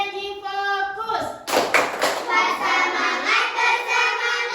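Children in a classroom clap together in a rhythmic chant, a burst of claps starting after a spoken count and continuing steadily under their loud chanted voices.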